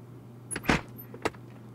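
A simulated Cessna C172 cabin door pulled shut, two close thuds about half a second apart, the first a heavier clunk and the second a short latch snap, over a low steady hum.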